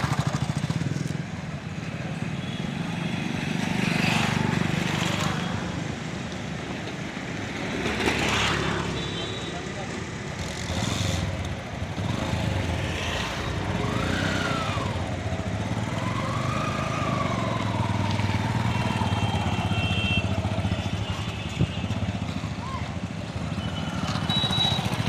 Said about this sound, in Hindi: रमेश कुशवाहा की हिम्मत की दाद देनी होगी, जो लोडिंग मोटर बाइक से गांव-गांव जाकर मट्ठा सप्लाई करता है।